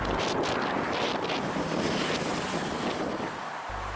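Rough sea off Largs on the Scottish coast, a loud continuous wash of waves and surf mixed with steady wind buffeting, close and unbroken throughout, with no voices.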